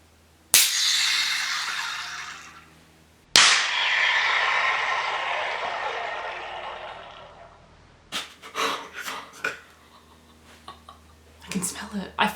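A cold can of nitro-infused drink cracks open with a sharp snap and a long, loud rushing hiss that fades over several seconds, followed by a second pop, then a burst of quieter clicks and handling noises near the mic.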